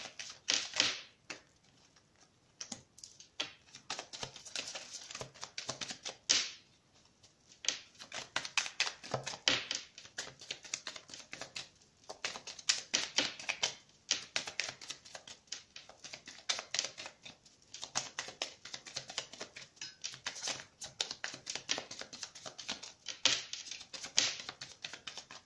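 Cards for a tarot-style reading are shuffled and drawn close up, making quiet crisp riffling and snapping clicks in irregular bursts that come and go throughout, with no talk.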